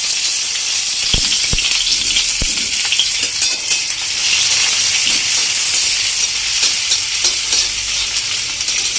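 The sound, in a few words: onion frying in oil in a pan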